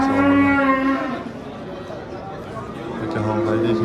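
Greyford calves low with drawn-out moos at a busy livestock bazaar, loud and close at the start and again near the end, with crowd chatter underneath.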